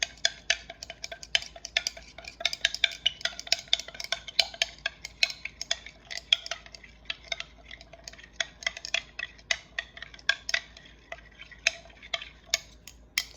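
A glass rod stirs a solution with dish soap in a lab container, giving rapid, irregular, bright clinks and taps against glass that keep up steadily and close by with no talking.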